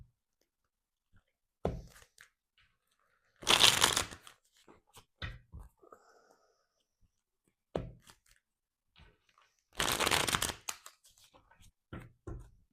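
Tarot cards being shuffled in several separate bursts, crisp riffling rushes with short taps and shuffles between, close and clear against near silence.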